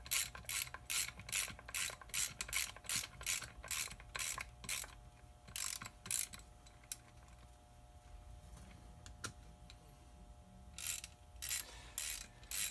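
Ratchet tightening bolts on a divorced NP 205 transfer case, with rapid rhythmic clicking in repeated bursts, a quieter stretch of scattered metal handling in the middle, then more ratcheting at the end.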